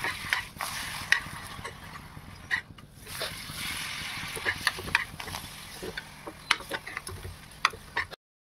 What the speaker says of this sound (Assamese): এইফালে তেল গৰম হৈ গ'ল, মই এতিয়া দি দিওঁ পাপৰ